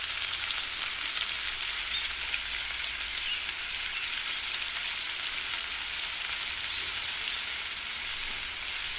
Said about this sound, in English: we are frying the sweet potato balls